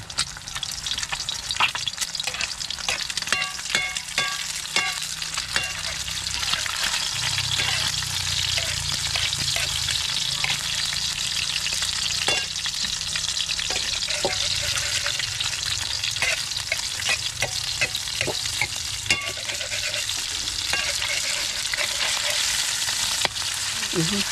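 Sardines, egg and vegetable shoots with dried fish sizzle and fry steadily in a pan, with occasional stirring clinks and scrapes over the continuous crackle and no talking.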